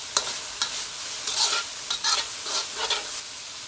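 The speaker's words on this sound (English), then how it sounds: "we're going to keep sauteing that mixture until our greens start to wilt." Greens and vegetables for fried rice are sauteed in a pan, giving a steady soft sizzle broken by repeated scraping and stirring strokes, close and fairly quiet with no voices.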